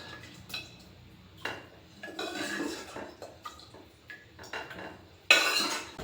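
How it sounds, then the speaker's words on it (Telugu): Metal utensils clink and scrape against a pot in short, uneven bursts as curry is transferred into it, with one louder clatter near the end; no talking. "సో అందుకోసమే కర్రీని మొత్తం గిన్నెలోకి అయితే వేసుకుంటాం."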